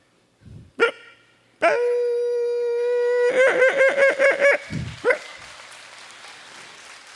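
A man imitates a thin street dog barking aggressively in its lane, loud and close: a sharp yelp, a long drawn howl, then a rapid run of yapping barks and a final bark, with audience applause-like bursts.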